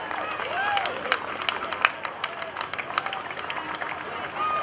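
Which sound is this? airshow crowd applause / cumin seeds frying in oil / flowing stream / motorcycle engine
airshow crowd applause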